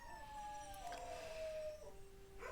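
Dogs in the video game Caribbean Legend howl and whine, a long falling howl sliding down in pitch with faint overlapping cries, quiet and steady throughout.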